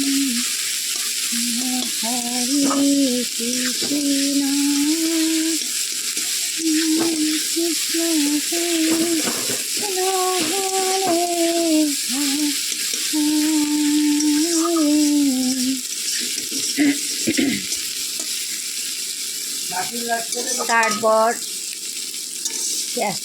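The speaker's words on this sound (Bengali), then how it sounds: "আর একটু ভাজা হয়ে যাক তারপর মশলাটা দিচ্ছি" Onions frying in a pan as the base for a spicy pabda fish curry, giving a continuous hissing sizzle close by, heard under a melodic humming tone that rises and falls throughout.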